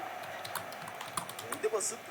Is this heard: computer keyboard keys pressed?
yes